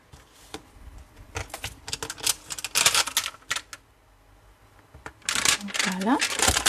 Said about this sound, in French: Donc ici, on tamponne notre petit écureuil.